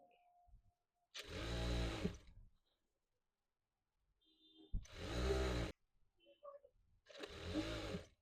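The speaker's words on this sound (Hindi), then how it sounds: "यहाँ से बिल्कुल एक पैर की पूरी गोलाई में ऐसे ही सिलाई लगाएंगे।" A sewing machine stitches a salwar in three separate loud runs of whirring, rattling motor noise, each lasting about a second, with quiet pauses between them.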